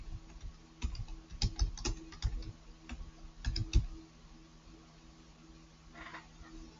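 Keys on a computer keyboard are tapped in short clusters of clicks with pauses between them, close and fairly quiet over a faint steady hum, with no talking.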